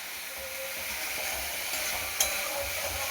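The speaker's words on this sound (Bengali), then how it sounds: "মশলাটা ভাজা হয়ে গেছে।" Ground spices with Kashmiri chilli frying in oil in a pan for a paneer curry, a low steady sizzle with a sharp clink of a spoon partway through, no talking.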